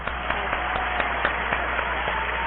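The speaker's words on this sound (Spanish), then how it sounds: "que le voy a dar un fuerte aplauso" Audience applause greets a guest speaker, a lawyer and public-management lecturer, at a talk: a steady wash of clapping at moderate level, holding evenly throughout with a few sharper individual claps poking out of the crowd.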